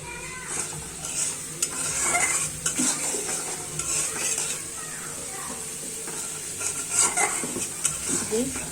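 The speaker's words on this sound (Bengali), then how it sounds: "মশলাটা এখন ভালো করে কষিয়ে নেব" Spice paste for a hilsa curry with vegetable stalks is stirred and sautéed in a pan, giving a continuous close sizzle broken by repeated scraping and clinking of a metal spoon against the vessel.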